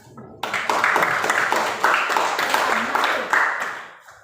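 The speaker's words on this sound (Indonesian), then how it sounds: "Kelompok 2 sudah bagus ya. Kita berikan dulu tepuk tangan." A classroom of Indonesian students claps for a presenting group, a burst of rhythmic, close applause that starts abruptly, holds steady and fades out after about four seconds.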